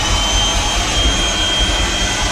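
A Milwaukee compact vacuum cleaner runs close by, giving a loud, steady high-pitched motor whine with an airy rush of suction that holds constant throughout, with no one talking.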